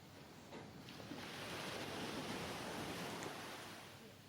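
Ocean waves wash onto a sandy beach as a broad, continuous surf roar that swells slightly in the middle and stays fairly soft and distant, with no talking.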